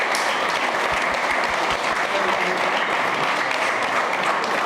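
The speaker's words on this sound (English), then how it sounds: "So a big round of applause for them," Steady applause from a conference audience for a whiskey panel at a spirits summit, dense continuous clapping held at an even level throughout with no speech over it.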